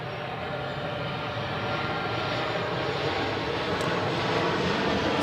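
A Qantas airliner landing at Adelaide Airport, heard as a loud, continuous engine roar that builds slightly toward the end, broad and steady with no voices.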